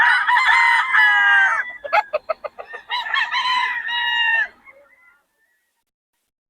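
Roosters at a busy chicken market crow loudly and close by, with a clucking, stuttering run of calls in between and a second crow before the sound fades to quiet.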